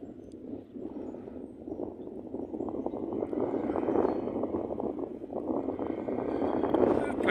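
Gusty wind buffets the microphone high above Fens Pool, a former coal-working site now a nature reserve, giving a steady broadband rumble that swells and stays loud throughout, with no clear talk over it.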